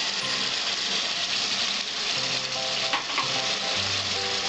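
Ridge gourd fries in a pan as cumin paste and other spices go in, making a loud, continuous sizzle heard up close with a few stirring scrapes and no voices.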